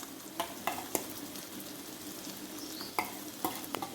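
Chili paste and blended onion fry in hot oil with a steady soft sizzle. Light scrapes and clinks from stirring break through at irregular moments, with no talking.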